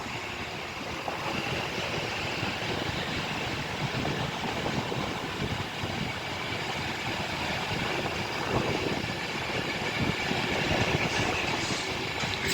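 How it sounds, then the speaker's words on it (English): An Avanti West Coast Pendolino electric train runs through Rugby on the West Coast Main Line, bound for London Euston, a steady broad rushing roar with rail clatter holding for the whole stretch at moderate distance, no talk. "there goes this Avanti West Coast Pendolino to London Euston"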